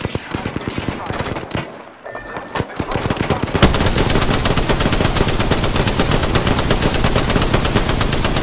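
Video game gunfire: loud, rapid bursts of automatic weapon fire with scattered shots early on, then a sustained, dense stream of machine-gun rounds for the rest of the clip.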